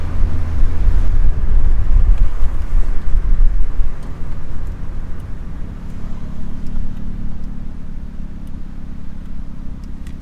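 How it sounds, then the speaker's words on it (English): A Nissan B13 Sentra with a turbocharged 1.6 engine drones loudly from inside the car on a street, with heavy low rumble and wind buffeting. The rumble eases slightly after a few seconds into a steadier hum. "When we get to the light, I'm gonna go ahead and open the throttle, and hopefully the mic is picking up the good sound."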